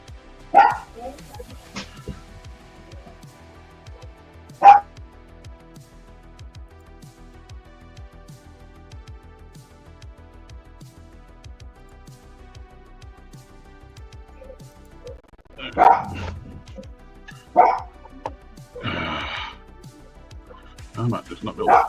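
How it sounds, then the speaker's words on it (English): A puppy barks a few sharp, scattered times indoors, with brief yips and whimpers spread across a mostly quiet stretch, during a scale-model car build. "Got a puppy demanding some attention."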